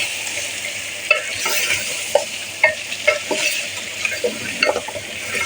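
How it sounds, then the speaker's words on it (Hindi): Bottle gourd, tomato and potato curry stirred in a pan, with a soft sizzle underneath and irregular scraping clinks of the spoon against the pan, close and clear with no talk. "इसे हम मिक्स कर लेंगे।"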